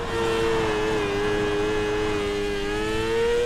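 Race car engine in the iRacing micro sprint sim, bogging down as the car slides too sideways: a steady, loud droning whine that holds one pitch and sags slightly, heard alone.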